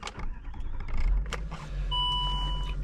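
Ignition switching on in a Range Rover Sport HST TDV8 gives a few clicks and a low thunk, followed by a steady electronic chime tone over a faint low hum, close and with no talking.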